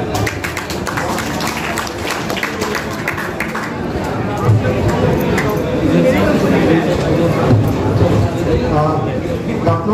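An audience gives a dense, sustained round of applause to welcome a speaker at a school event, with a crowd murmuring through it.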